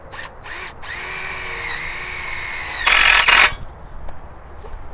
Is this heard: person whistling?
no